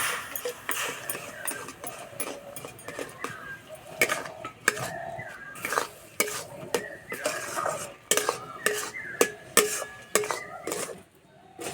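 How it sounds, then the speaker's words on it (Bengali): A bowl of semolina stirred with a spoon in a pan over a stove with white oil, giving repeated scraping and clinking strokes in an uneven rhythm, close up and without talk. "এবার দেবো এক বাটি সুজি আর এই নাস্তাটার জন্য সঠিক একটা মাপ নিতে হবে এইভাবে দেবো আর নাড়বো"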